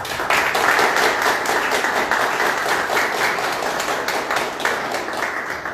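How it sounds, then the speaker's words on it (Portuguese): Audience applause at a library inauguration event honoring a guest speaker, dense sustained clapping from a crowd that stays loud throughout, with no speech over it. "Então, gostaria de dar uma salva de palmas"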